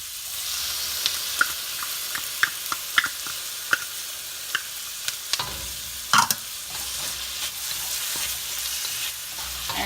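Garlic sizzles in a hot pan at lunch cooking, a steady bright hiss studded with small pops and crackles, close and continuous for about ten seconds.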